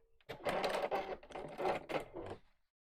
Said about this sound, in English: So open out the corner and sew straight across.